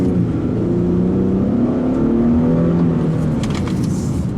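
A 2015 Infiniti QX70 S Elite Sport pulls away while driving, its engine revving up with a rising sporty hum heard from inside the cabin, loud and steady.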